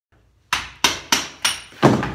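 Mallet striking a chisel to clear wood from a window frame during replacement: five sharp, close thunks at a steady rhythm roughly every third of a second, each with a short ringing decay.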